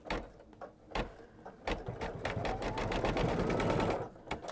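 A Baby Lock embroidery sewing machine stitching an in-the-hoop quilting design, its rapid mechanical needle whir building into a steady close run for several seconds before easing off, with no talk.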